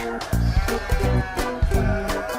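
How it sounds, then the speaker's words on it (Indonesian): Young Dorper lamb about three weeks old bleating repeatedly in close, loud wavering cries, several calls in quick succession with no talk. "lihat aja anakan domba yang baru berusia sekitar 3 mingguan ini"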